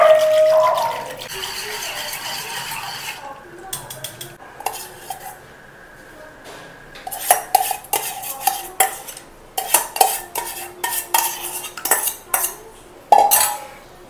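A utensil clinks and scrapes repeatedly against a bowl while mixing homemade mango yogurt, a quiet stretch first, then a run of quick, close metallic taps with faint background voice.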